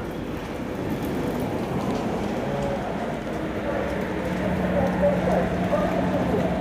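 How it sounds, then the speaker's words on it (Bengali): Heavy rain pours down at a railway station where a Kumbh Express stands at the platform, a steady dense hiss that swells slightly toward the end, with a faint low hum beneath. "বৃষ্টিটা খালি পড়ছে, দেখো কি জোরে"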